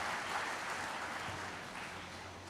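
Applause from an audience at an architecture talk in Mumbai, a steady wash of clapping that fades gradually over a couple of seconds, fairly soft and distant-sounding with no voices on top.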